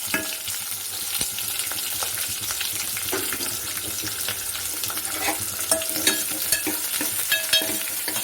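Chopped big onion frying in oil for South Indian sambhar, a continuous close sizzle with clinks and scrapes of a spoon stirring in the pan, no talk.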